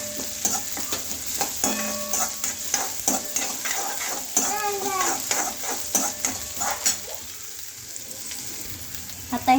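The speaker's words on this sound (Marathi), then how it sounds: "त्यानंतर मी शेंगदाणे पण घालणार आहे सगळे, म्हणजे शेंगा पण तेलामध्ये जरा व्यवस्थित भाजतात" Peanuts fry in hot oil for Indori poha, giving a steady close sizzle broken by repeated scraping stirs of a spoon against the pan and brief clinks.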